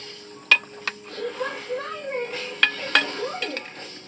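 Pork adobo in a pot with soft bubbling and a faint sizzle, broken by several sharp metallic clinks of a utensil against the pot; speech is heard faintly in the background.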